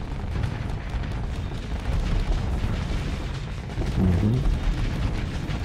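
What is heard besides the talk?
big ship guns firing in the video game Starsector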